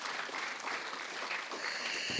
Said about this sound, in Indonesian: Tepuk tangan dulu ini